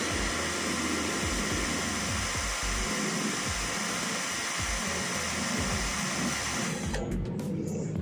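An Uchiha 42VF cordless drill runs continuously at its slow second speed setting, giving a steady close whirring hum before it stops near the end.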